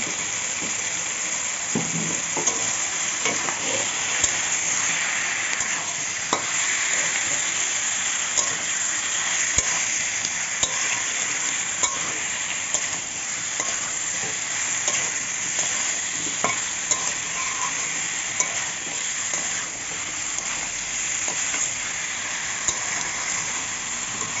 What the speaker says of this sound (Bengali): তারপর আবার নেড়ে চেড়ে সুন্দর করে একটু করে ঢাকা দিয়ে দিয়ে কষিয়ে নেব।